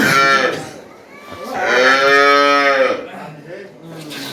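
A calf on a dairy farm in Dinajpur gives two loud, close moos, a short one followed by a longer drawn-out call, with no other sound between them.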